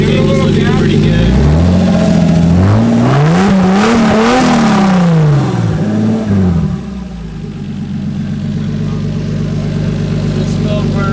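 A car with a Toyota JZ engine revs up and down in a few rising and falling sweeps, then settles into a steady, slightly lumpy idle, close and loud, with someone talking over it.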